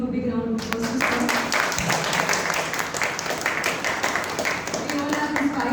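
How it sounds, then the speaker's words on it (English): Audience applause at an award ceremony rises into a dense, sustained wash of clapping from a large crowd, with faint voices and a brief low tone at the start. "So I would like the entire audience to please give a big round of applause to sir."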